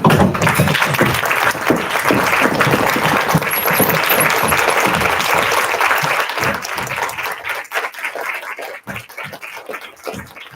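A large crowd applauding steadily and loudly for several seconds, the clapping thinning out toward the end.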